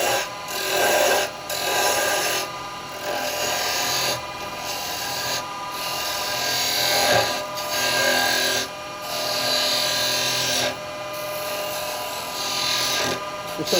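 A spindle gouge takes a shear cut on a wood lathe, turning a candlestick, giving a continuous scraping, rasping hiss over the lathe's steady hum, with the cut coming in repeated passes, close and loud.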